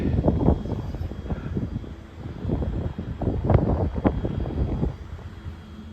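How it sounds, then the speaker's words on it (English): Gusty wind buffets the microphone on the open deck of a ferry heading to Fedje near Bergen, rising and falling in low rumbling bursts with no speech. "It's a bit breezy out there."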